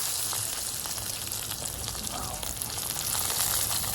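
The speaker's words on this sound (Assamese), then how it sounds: "এনেকৈ এতিয়া পুৰা মজাকৈ পিঁয়াজ ফ্ৰাই কৰি আছোঁ" Steady crackling sizzle of onions frying in hot oil, continuous and close, with no talking.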